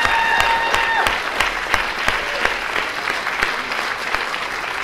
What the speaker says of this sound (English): please applaud, because these kids have been amazing